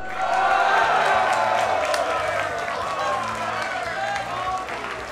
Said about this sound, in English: But also let me hear you for Mr. R.